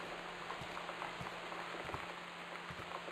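Steady rain pattering on surfaces in the video game Gone Home, a dense, even hiss with scattered soft drop ticks, faint and continuous, with no voices.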